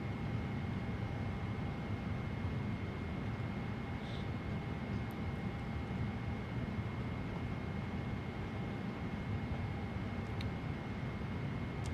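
Boeing 777-200ER engines drone steadily in flight with the PMDG simulator and Boris Audio sound pack, an even, unbroken cockpit roar with a faint high whine and no talk over it.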